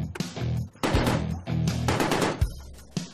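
Heavy large-caliber machine gun firing aboard the Danish Iver Huitfeldt-class frigate HDMS Peter Willemoes: loud, close bursts of rapid rattling shots with sharp booming reports and short pauses between volleys.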